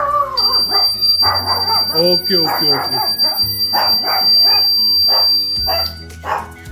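A dog barks and yips excitedly several times in quick bursts, close by, mixed with whimpers while a person speaks briefly over it.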